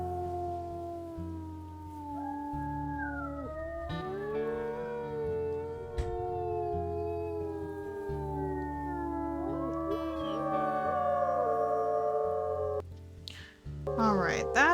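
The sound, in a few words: wolf howling in the video game WolfQuest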